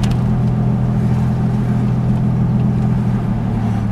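A supercharged 2001 Toyota 4Runner with a Dynomax VT muffler drones steadily while cruising, a loud constant low exhaust hum with a faint flutter under road noise.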